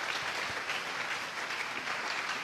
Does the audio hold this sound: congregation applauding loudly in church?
yes